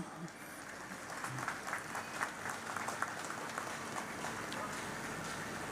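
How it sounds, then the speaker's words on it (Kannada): A crowd applauding to welcome the chief minister at a St. Mary's Basilica chariot blessing event, steady moderately distant clapping throughout. "ಎಲ್ಲರೂ ಸಹ ಚಪ್ಪಾಳೆ ತಟ್ಟುವ ಮೂಲಕ ನಮ್ಮ ಗೌರವವನ್ನು ಸಲ್ಲಿಸೋಣ"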